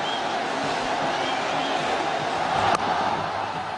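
A large crowd at a Bangladesh vs Sri Lanka cricket final in 2009 roars in a steady, dense wall of cheering that holds throughout, with one sharp crack partway through.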